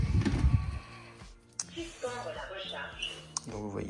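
A Feider FRVC2 LiDAR robot vacuum plays a spoken voice announcement, a short synthetic phrase with tonal, electronic-sounding speech, preceded by a brief burst of handling noise.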